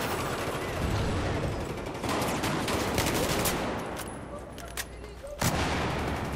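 Battlefield 1 gameplay gunfire, a dense barrage of rifle and machine-gun shots with booming blasts, continuous and loud, with a few sharper cracks standing out near the end.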